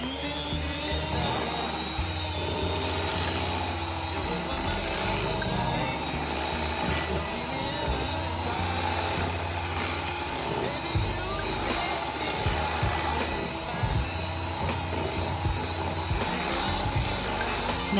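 An electric mixer beats cream cheese into pound cake batter, giving a continuous loud mechanical whir with rattling throughout.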